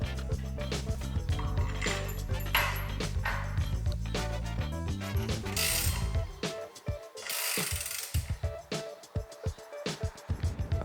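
Mechanical rattling and ratchet clicks come from fitting the motor onto the cutting box of a WEIMA Plastic Shredder Pro, with a steady loud whir at first, then choppy close clatter and bursts of scraping.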